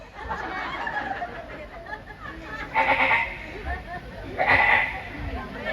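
A person imitates a young goat's bleat, giving a few wavering, nasal cries in between stretches of talk.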